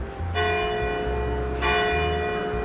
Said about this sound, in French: là, les cloches de l'église vont sonner